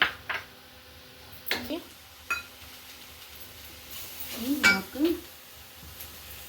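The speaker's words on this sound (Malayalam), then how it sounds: "ഇനി നമുക്ക് ക്യാരറ്റും ബീൻസും ഇട്ട് കൊടുക്കാം" Carrots and beans go into a cooking pan for an Onam kootukari, giving a few scattered clinks and metallic knocks of pan and utensil over a quiet background, with a voice speaking between the sounds.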